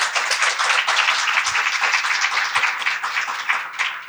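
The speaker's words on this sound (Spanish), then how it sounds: "un aplauso para él" Audience applause at a literary talk, steady dense clapping from a crowd filling the whole stretch, fairly loud and close, with no voices over it.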